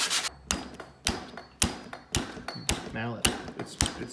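A mallet strikes a grip being seated onto a knurled motorcycle part, with about eight sharp, evenly spaced taps at close range. A brief voice comes in partway through.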